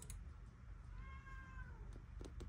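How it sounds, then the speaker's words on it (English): A house cat gives a single clear meow in the background, fairly faint, under a steady low hum indoors beside a Samsung Odyssey OLED monitor, with a few small clicks around it. "You can probably hear my cats in the background."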